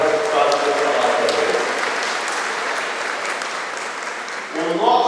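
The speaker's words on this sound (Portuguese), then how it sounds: "uma salva de palmas" An audience claps steadily at a lecture, a dense, fairly loud round of applause that fades slightly before a voice begins speaking at the end.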